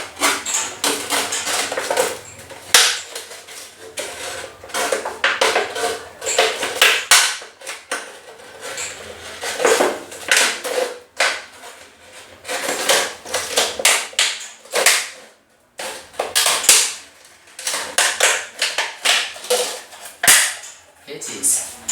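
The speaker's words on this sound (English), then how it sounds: "So I'm going to cut this part here." Repeated sharp snipping or cracking cuts while trimming part of a homemade chicken feeder tray, irregular bursts of crisp clicks close to the microphone with short pauses between groups.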